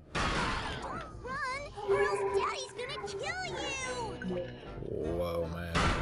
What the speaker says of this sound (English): And a cat.